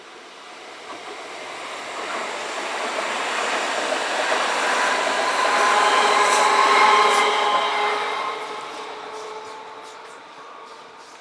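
A dual gauge freight train rolls past at Ems Werk, a broad rumbling wash that swells to its loudest midway and then slowly fades as the cars move away, with no voices.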